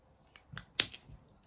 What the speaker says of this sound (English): And some working scissors